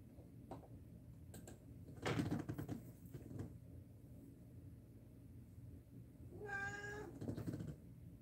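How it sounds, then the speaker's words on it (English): A cat gives a single meow about two thirds of the way through, a clear rising call against a quiet room with faint ticking and a thump earlier on. "Casey, she's the only one who ever meows."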